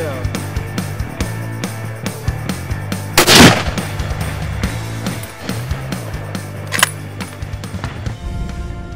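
A single sharp shotgun blast from a Blaser F16 shotgun cracks out loudly in the middle, with a fainter report a few seconds later, over steady outdoor background noise.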